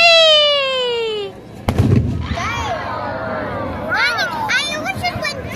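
Fireworks at a public display burst loudly, with a sharp bang followed by crackling and fizzing bursts and whistling streaks, while voices and crowd noise continue underneath.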